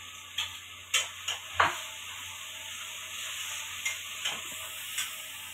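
Chilapi fish frying in a pan with leftover masala and coriander, a soft steady sizzle with a few sharp stirring clinks and scrapes spaced through it, quiet and close with no talking.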